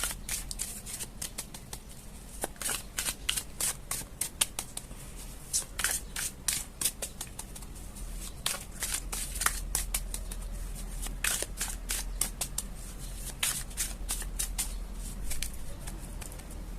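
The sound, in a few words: shuffling tarot cards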